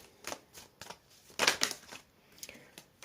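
Quiet papery riffling and soft card slaps come in short bursts as tarot cards are shuffled, with one louder shuffle in the middle.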